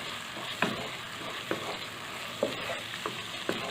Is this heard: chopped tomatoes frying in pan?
yes